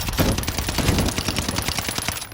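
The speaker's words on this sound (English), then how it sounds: "With me shooting, stopping, reloading, it's all making sounds." Rapid automatic gunfire from a Godzilla-themed tracer weapon skin in a video game, a dense, loud, continuous stream of shots with sharp repeated cracks and no talking.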